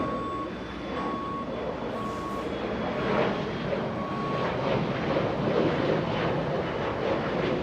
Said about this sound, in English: as a big vehicle passes right behind me right now, trying to back up. Do you guys hear the beeps?